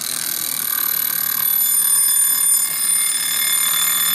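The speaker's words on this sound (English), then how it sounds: "So we'll go ahead and we'll set the alarm and have a listen to it." A Westclox travel alarm clock rings its bell alarm, a continuous bright, metallic rapid ringing with sustained high tones, loud and close, running uninterrupted apart from a brief dip.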